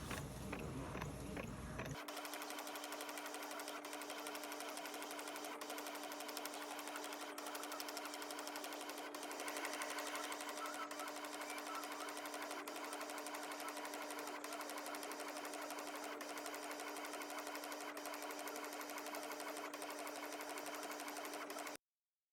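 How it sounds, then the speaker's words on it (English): A sticker printer runs steadily, its print head moving back and forth in a fast, even mechanical chatter with a constant hum, close and loud, starting after a brief pause and carrying on without interruption. "it's going to take a little while to print because it's going to go back and forth"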